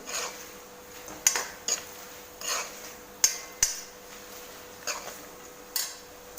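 A spoon taps and scrapes a pan as two to three spoonfuls of salt go in for a Diwali poha chivda with murmure. About nine sharp metallic clinks ring out close and irregularly over quiet room hiss.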